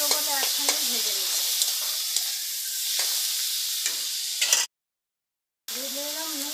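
Small shrimp fry in a pan with a steady broadband sizzle and scattered stirring scrapes, cutting to silence for about a second before the sizzling resumes.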